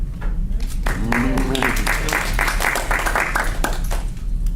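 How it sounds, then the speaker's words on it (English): A group of people claps together in a loud, continuous burst of applause lasting several seconds, with a voice briefly audible near the start. "I'm gonna clap on that one."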